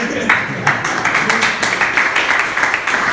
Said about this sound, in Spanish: Es más, déjenme les doy un aplauso, hermanos. Es más, apláudense.